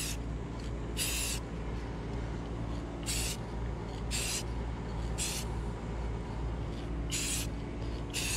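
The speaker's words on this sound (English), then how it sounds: "when I spray, I'm gonna start from left to right in just a sweeping motion" Several short hissing bursts of a spray paint can, sprayed in sweeping passes on Jeep trim, sound at irregular intervals over a steady low background hum.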